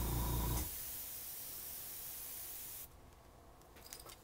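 Alcohol markers spray ink onto paper through a trigger airbrush, a brief loud hiss burst, then a fainter steady spray that cuts off, followed by a few light clicks, close and with no talk.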